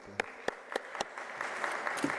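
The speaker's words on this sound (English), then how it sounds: "let's help me to give an applause to our panelists" Audience applause for conference panelists at an international teaching, learning and student support conference, starting with a few sharp separate claps and swelling into steady moderate clapping from a room of people.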